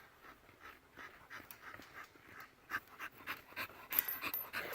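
Bully breed dogs pant quickly and rhythmically close by in 90-degree heat, with small whimpers and rustling, no talk.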